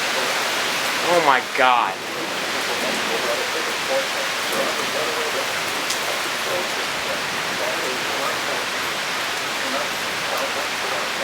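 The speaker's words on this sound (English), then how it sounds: "it's heavy rain and like a bunch of gusty winds" Heavy rain and gusty winds lash down during a severe thunderstorm, making a loud, steady broadband roar that lasts throughout, with a brief startled exclamation from a person near the start.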